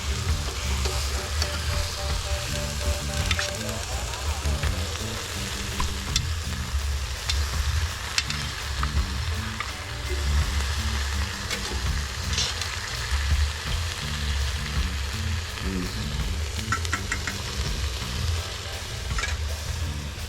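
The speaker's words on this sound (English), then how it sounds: "You can throw the sauce over the pork and just flip it." Jerk pork sizzles and fries in sauce in a pan, a steady, loud crackle that runs the whole time with occasional stirring and no voices.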